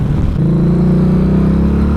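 A car engine revs hard toward redline with a shift partway through, its loud, steady low drone rising in pitch. No talk over it.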